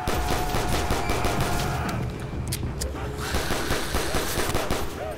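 Dense automatic gunfire in a Call of Duty Black Ops custom zombies game, rapid bursts rattling almost continuously at close range, with someone talking over the shooting.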